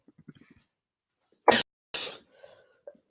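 A single sharp cough bursts out, followed by a second rougher cough and some faint rustling and small mouth sounds.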